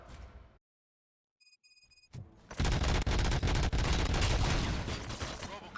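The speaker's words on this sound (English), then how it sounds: "Gunshots? What's going on?" Gunfire erupts in the RoboCop Rogue City video game: a sudden dense fusillade of rapid shots and booms bursts in loudly after a brief silence and a few electronic beeps, continuing as heavy sustained firing.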